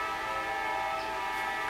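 Train noise from a nearby rail yard drifts in through an open window of a house, a faint steady drone with sustained horn-like tones held throughout and no talking.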